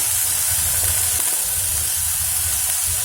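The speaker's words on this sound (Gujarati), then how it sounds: "હવે નાખીશું બાફેલા વટાણા, તેની સાથે જ લાલ મરચું પાવડર," Boiled peas with red chilli powder tipped into hot oil for samosa filling, giving a steady close sizzle and hiss of frying with faint stirring scrapes and no talk.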